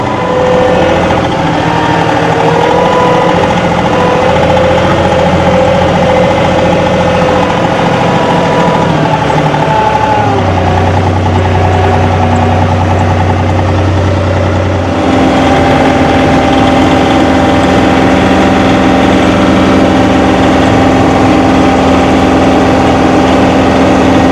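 A tractor engine runs steadily close by: a rough idle that shifts pitch as the range changes, then settles into a higher, steadier speed with the RPMs raised. It continues loudly and evenly throughout, with no talking.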